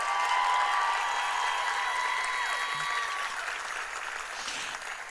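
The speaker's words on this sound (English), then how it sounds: "let's give them all a round of applause" Steady applause from a crowd at a school district celebration, a dense wash of clapping that holds for several seconds and slowly thins.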